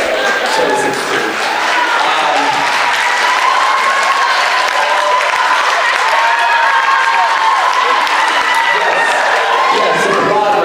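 An audience at a convention Q&A applauds in a steady, dense wash of clapping that fills the room from start to finish, with some cheering mixed in.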